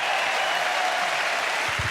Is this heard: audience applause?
yes